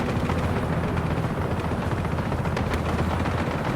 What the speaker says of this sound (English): That helicopter was on already. Was turned on already.